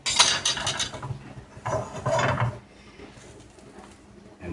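A crepe pan with curried pork crepes is shaken to loosen the crepe, giving two close bursts of scraping, rubbing rattle followed by quieter handling noise.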